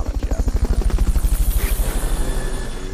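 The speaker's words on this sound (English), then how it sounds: "Fulton recovery to helicopter is complete." Helicopter rotor in a video game, a loud, close, rapid rhythmic thudding of blades that keeps a steady beat throughout and eases a little toward the end, heard alone without talk.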